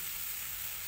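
Flat rice noodles (kway teow) sizzle steadily in a hot wok over high heat, a dense, continuous hiss of frying with no pauses, close and moderately loud throughout the short moment.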